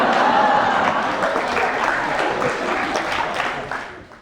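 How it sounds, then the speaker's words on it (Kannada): A television studio audience applauds during a courtroom-style celebrity interview show, a dense, loud wash of clapping that holds steady for several seconds before easing off toward the end. "ನೀವು ಇಲ್ಲಿ ತಮಾಷೆಗೆ ಚಪ್ಪಾಳೆ ಹೊಡಿತಾ ಇದ್ದೀರಾ ಇಲ್ಲ ಸಪೋರ್ಟ್ ಮಾಡ್ತಾ ಇದ್ದೀರಾ"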